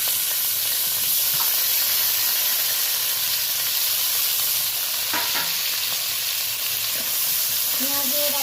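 Slit green chillies, onion and tomato tossed into hot oil for a bhetki fish curry, producing a loud, dense, continuous sizzle and hiss with occasional stirring knocks near the end.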